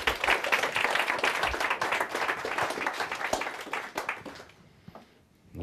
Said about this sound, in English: Give Anita a big round of applause.